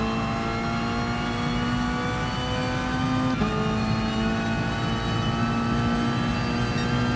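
A race car engine in a racing video game holds a loud, steady high-revving drone on a flying lap of Circuit de Sainte Croix B, with a brief pitch dip partway through, and no talking.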